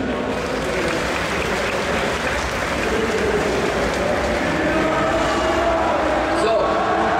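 Dense, steady audience applause at a gaming convention presentation, a loud continuous wash of clapping holding evenly throughout with a faint voice underneath.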